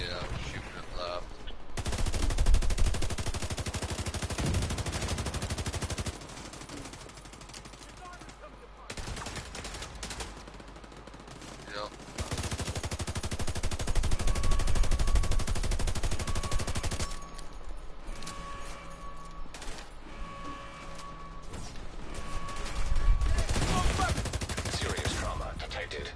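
Bursts of automatic gunfire from The Division 2 during a raid, loud and repeated in stretches with brief lulls, mixed with game sounds and some talk from players.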